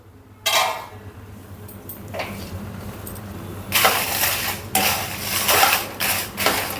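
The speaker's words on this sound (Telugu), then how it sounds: "నేను కొద్దిగా వేపుతున్నాను." Red chillies frying in sesame oil in a pan, a steady low sizzle with sharp bursts of crackling and spatter that grow denser and louder toward the end, no voices.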